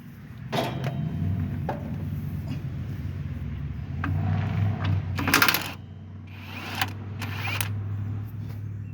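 An impact wrench works a track bolt loose on an AGT industrial mini skid steer. Short, sharp mechanical bursts rattle through a steady low hum, with a louder rattling burst near the middle and a couple more toward the end.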